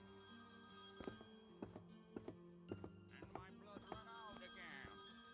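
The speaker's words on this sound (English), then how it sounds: "we got another phone call." An in-game telephone rings in Priest Simulator with repeated bright bell trills at regular intervals. A voice talks over the ringing, and a few soft thunks are mixed in.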